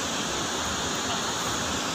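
Dangari waterfall at Jashpur, Chhattisgarh, gives a steady, dense roar of falling water that fills the whole clip at a constant level, with no voices.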